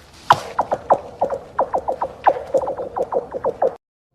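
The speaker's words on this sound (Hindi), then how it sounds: "क्या होता है जब आप एक जमी हुई झील पर इन छोटे पत्थरों को फेंकें?" Small stones thrown onto a frozen lake make a rapid run of about twenty sharp, chirping pings with a descending, laser-like zing, closely spaced and fairly loud, stopping abruptly.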